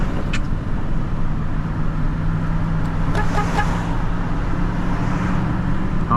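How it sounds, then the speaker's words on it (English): A car horn honks amid the steady rumble of a vehicle driving through hurricane-flooded streets in Shore Acres, Florida, brief toots rising above the continuous engine and road noise. "honk at another scrapper"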